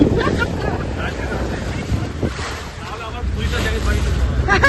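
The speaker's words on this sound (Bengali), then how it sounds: "তোমাদের সঙ্গে মেডেন ড্রাইভে স্পিডবোটে জড়ার যে অভিজ্ঞতা সেটাই তোমাদের সঙ্গে শেয়ার করছি" A speedboat on open water at Marine Drive, Mumbai, roars steadily with heavy wind buffeting the microphone and the wash of waves around the hull, continuous and close.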